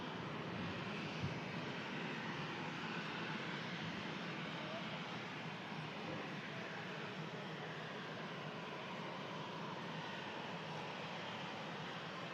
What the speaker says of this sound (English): This Ryanair about to cross our path. It's a 737 Papa November